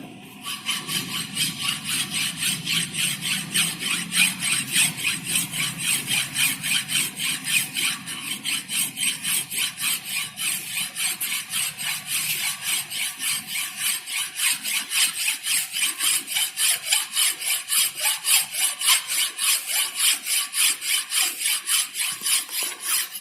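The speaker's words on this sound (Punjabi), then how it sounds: "ਫਿਰ ਜਿਹੜਾ ਆ ਅਸੀਂ ਇਹਦੀ ਫਾਈਲਿੰਗ ਜਿਹੜੀ ਆ ਰਫ ਦੇ ਨਾਲ ਪਹਿਲਾਂ ਕਰ ਦੇਣੀ ਆ।" A coarse file is worked roughly across a square metal fitting, producing steady, rhythmic rasping strokes that repeat evenly for the whole stretch, close and loud, with no talking.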